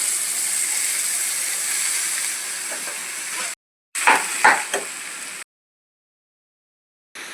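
Dal stirred and fried in two spoons of ghee for puran, sizzling in a steady loud hiss with a few scraping stirs. The sound cuts out twice, briefly, and no one speaks.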